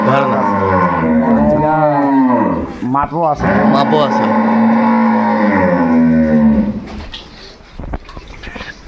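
Beef cattle moo loudly and repeatedly at close range, long drawn-out lowing calls overlapping, with a person speaking briefly amid the animals, at a cattle trading spot in Cox's Bazar.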